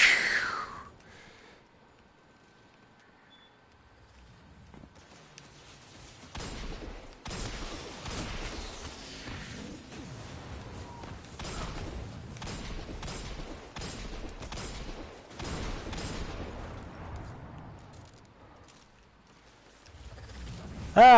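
Gunshots in Destiny 2, heard as a string of sharp, separate cracks that come in an irregular burst over several seconds, fairly close, between quieter stretches, with a voice that briefly exclaims.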